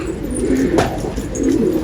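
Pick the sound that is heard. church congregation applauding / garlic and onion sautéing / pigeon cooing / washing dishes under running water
pigeon cooing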